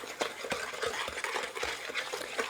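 Batter stirred by hand as three cups of sugar are mixed into a thick pumpkin bread batter, a steady run of soft scraping, sloshing strokes repeating about every half second, close and moderately loud with no talk.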